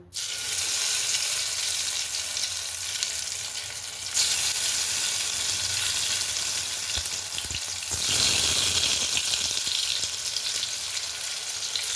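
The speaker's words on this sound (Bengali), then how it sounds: "এরপরে আমি বেগুনগুলোকে ফ্রাই করে নেব।" Brinjal slices fry in hot white oil in a pan, a steady close crackling sizzle that runs throughout and grows louder and denser near the end, with no talking.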